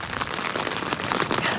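Heavy rain pours down hard during an ice storm in Greenville, a loud, dense, steady hiss of drops hitting surfaces close by, with no voices.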